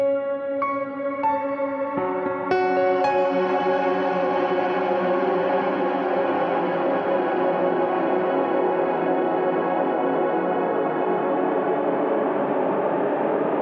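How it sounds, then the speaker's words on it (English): Sustained chords ring out through a lush, wavering reverb plugin in NI Reaktor, the notes smearing and shimmering with strong pitch modulation as they slowly decay. "which is a lot of modulation for a reverb"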